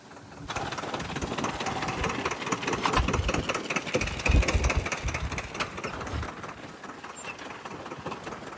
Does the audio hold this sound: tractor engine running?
yes